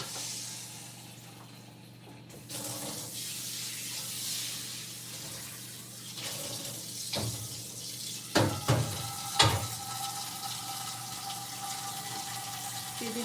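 A frying pan is washed under a running kitchen tap after cooking bacon, with steady water flow, brief louder splashes and clatters near the end, and no talking.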